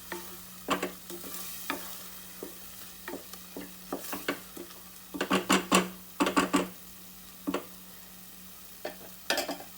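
Onion-tomato masala roasts in oil in a pan over a medium flame, with a low sizzle running throughout. Repeated clinks and scrapes of a spoon stirring against the pan come in irregular clusters.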